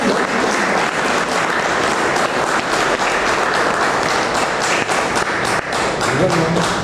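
An audience at a book presentation breaks into loud, sustained applause, dense clapping from a crowd filling the room without a break.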